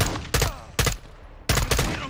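Gunfire in Call of Duty Modern Warfare 2: three loud, close bursts of rapid shots, each a short clustered volley with brief gaps between.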